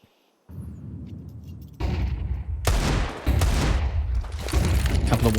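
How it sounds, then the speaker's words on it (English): Bursts of gunfire in a Counter-Strike esports match, with pistol shots fired as warning shots, crackling in rapid clusters that grow louder and denser after a quiet start, with no talk over them. "Couple of warning shots."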